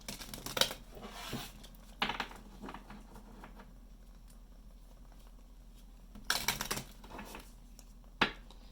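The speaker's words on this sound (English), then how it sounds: "we'll give it a quick shuffle" A deck of oracle cards being shuffled quickly, heard as short crisp riffling bursts separated by quiet pauses, close and fairly soft with no talk.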